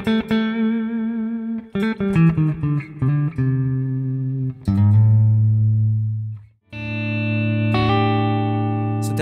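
A Heritage Ascent electric guitar with high-output pickups, switched to the middle position, plays a series of clean picked notes and ringing chords, sustaining strongly, with a brief gap before a final held chord.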